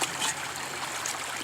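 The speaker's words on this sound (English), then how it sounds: "We pretty much dammed up the whole creek, trying to get the water through the sluice box." Creek water dammed up and forced through a gold-prospecting sluice box, a steady hissing trickle and rush of flowing water, fairly faint and continuous with no voices.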